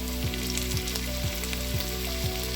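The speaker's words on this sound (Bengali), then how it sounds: "আলু এবং গাজর এইগুলো ভাজা হতে দিয়ে দেবেন" Potatoes and carrots frying in oil for a dhaba-style vegetable pulao, a dense, loud, continuous sizzle close to the pan, with a steady hum and regular soft thumps underneath and no voices.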